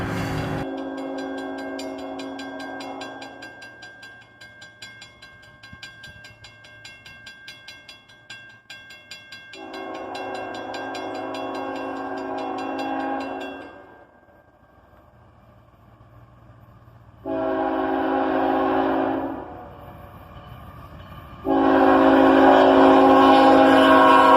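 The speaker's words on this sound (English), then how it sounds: "An intermodal train, led by an ET44AH." CSX intermodal freight train led by an ET44AH locomotive rumbling past with repeated loud horn blasts, long sustained tones separated by quieter stretches of rolling wheels and engine noise.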